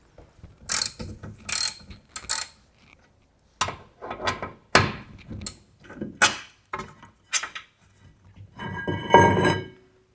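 Ratchet clicking in bursts as the caliper bracket bolts come off the rear brakes of a 2017-2022 Kia Sportage, with short sharp ratcheting runs and metallic clacks close up, no talking.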